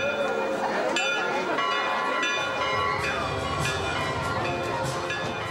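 A church bell peals continuously at the opening of the Basel autumn fair at St. Martin's church, its ringing strikes layered over a dense wash of crowd murmur.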